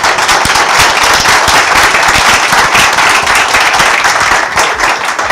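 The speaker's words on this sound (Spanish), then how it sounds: "le damos un aplauso al señor obispo." Loud, dense applause from a church audience for a bishop, many hands clapping close and continuously with crisp individual claps throughout, no speech over it.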